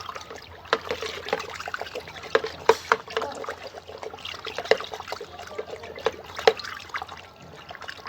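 Liquid fertilizer mix being stirred and dissolved in water for a hibiscus plant, giving soft continuous sloshing and trickling with a few sharper splashes, close and fairly quiet.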